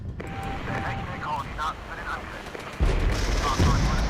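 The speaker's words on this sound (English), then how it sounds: "Artillery strike right here." In the Regiments war game, artillery strikes land amid a speaking voice: a sudden heavy boom about two-thirds through, followed by another deep blast and continuing rumbling, loud and close.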